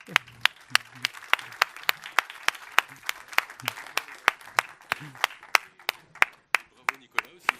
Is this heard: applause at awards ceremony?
yes